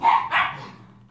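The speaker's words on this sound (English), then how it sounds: "sorry about the dogs" Two quick barks from a dog indoors, close and fairly loud, the second trailing off into a short fading tail.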